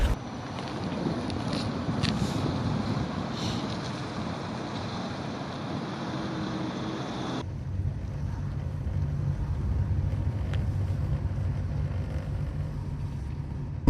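A car drives along a residential village street in Ruska Lozova, its steady road rumble and engine drone mixed with heavy wind buffeting at the microphone.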